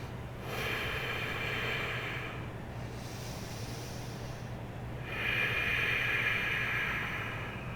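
Slow, steady breathing during a yoga hold: a long airy inhale and exhale, then another breath, close to the microphone over a constant low background hum, with no talking.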